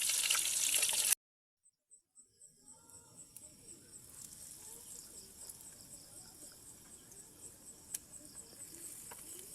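Chicken intestines deep-frying until crispy, bubbling in hot oil; after a sharp cutoff, a soft continuous sizzle and crackle with rapid small pops builds gently, fairly quiet and close, with no speech over it.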